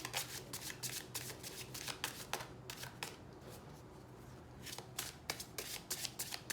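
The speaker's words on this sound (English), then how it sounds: "One more shuffle." A deck of cards being shuffled, with rapid riffling bursts and flutters repeating in quick succession, close and crisp, with no talking.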